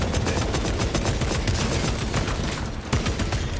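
A krak grenade goes off amid a chaotic Warhammer Space Marine 2 battle, with loud, dense, rapid bursts of gunfire and blasts layered over one another without let-up.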